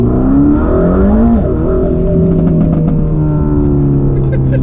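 A Mercedes AMG GT Black Series accelerating hard with its tires spinning, a loud close engine roar rising and falling in pitch as it pulls through the gears, heard from inside the car.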